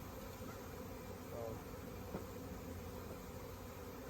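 A faint, steady hum of bees buzzing around a hive tucked inside a holly bush, a low continuous drone with no voices, heard from a short distance.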